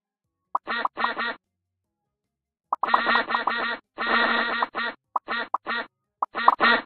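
Ducks quack in a loud, close run of rapid nasal calls, grouped into several bursts with short silent gaps between them.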